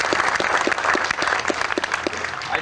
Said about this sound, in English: I really think that a round of applause is due them.